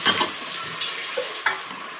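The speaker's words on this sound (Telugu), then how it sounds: "ఇక మంచిగా కలుపుతుంది." Chicken curry being stirred in a frying pan, with a steady close sizzle broken by a few scraping strokes of the spoon against the pan.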